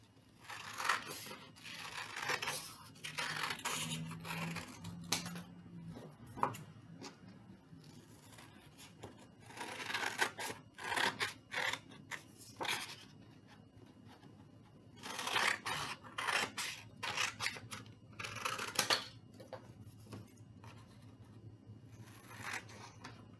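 Scissors cutting paper around a drawn outline for a children's Mother's Day card, giving repeated bursts of snipping and scraping in clusters with pauses between, fairly close and quiet, with no talk.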